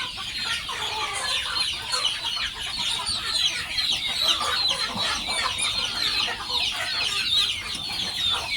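Dense, continuous clucking from a large flock of young backyard native chickens kept together in a coop, a steady overlapping chatter of many birds close by with no talking.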